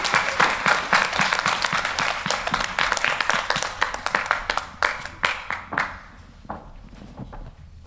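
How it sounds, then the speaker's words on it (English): An audience at a community storytelling event bursts into loud, dense applause that holds for several seconds, then dwindles into a few scattered claps before falling quiet. "Let's take the applause."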